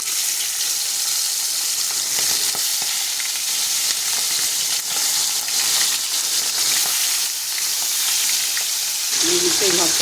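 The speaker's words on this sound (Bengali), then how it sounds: "কড়াই গরম হয়ে গেছে, দিয়ে দেবো তেলটা মাছ ভাজার জন্য" Live bata fish fry in hot oil in a wok with a steady, loud crackling sizzle that continues throughout, close up, and a brief clatter near the end.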